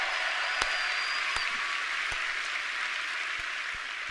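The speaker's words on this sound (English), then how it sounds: "Another round of applause, please," Audience applause at the Bethesda E3 2019 showcase, a steady dense wash of clapping that holds at an even level throughout, with a few sharper claps popping out of the crowd.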